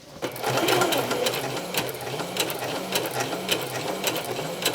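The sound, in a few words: Singer Heavy Duty sewing machine feeding fabric through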